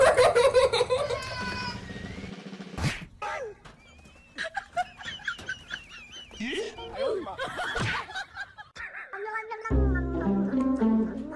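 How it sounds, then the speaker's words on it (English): A cat sitting on a car windshield meows repeatedly at close range, with people talking and laughing around and over it throughout. "why is this cat on my windshield?"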